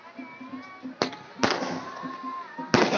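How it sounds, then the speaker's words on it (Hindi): Fireworks bursting over the Saryu river during a Durga Puja lamp-floating festival: three sharp, loud bangs sound over a steady crowd murmur and distant festive music. "आतिशबाजी अपनी चरम सीमा पर है"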